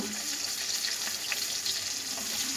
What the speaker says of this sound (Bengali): দেখুন বন্ধুরা, আমি পমফ্রেট মাছ ভাজছি।